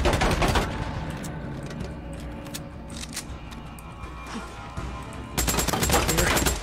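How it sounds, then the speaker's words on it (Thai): Gunfire in the video game Days Gone, loud rapid bursts at the start and again near the end, with a lower, continuous rumble of game sound between them. "ปืนเรายิงทะลุ"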